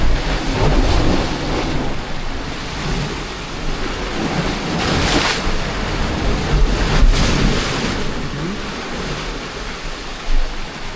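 Ocean waves surging and breaking at the shore in Dumaguete, a continuous loud roaring wash with swells peaking every few seconds and no talk over it.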